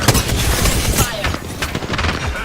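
Loud gunfire in a video game shootout: rapid, overlapping bursts of shots crackling close by, thick at the start and continuing in sharp, irregular volleys with booming impacts.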